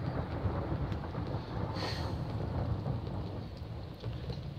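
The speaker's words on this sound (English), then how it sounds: "that is thunder there" Thunder rumbles low and steady through a rainstorm, with dense rain hissing and pattering on surfaces throughout and no voices.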